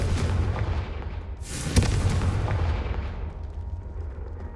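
A Confringo fire spell from Hogwarts Legacy bursts with a heavy booming explosion that crackles and rumbles before slowly fading into a low roar.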